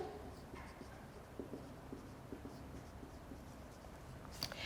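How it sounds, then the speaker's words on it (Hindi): Soft scratching of a pen writing a word by hand during an online English lecture, faint quiet strokes with light taps over a low background hum, no talking. "जी बेटा यहाँ पर लिखते हैं अनप्रिंसिपल्ड"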